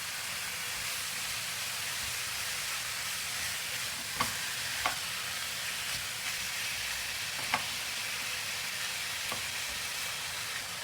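Ground meat for Turkish stuffed peppers fries in a pan with a constant fine sizzle and hiss, broken by a few scattered clicks of a utensil against the pan.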